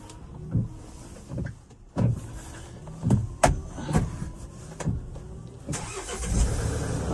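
A white Porter truck engine is cranked over in several short bursts, then catches and settles into a steady idle, close by with no voices.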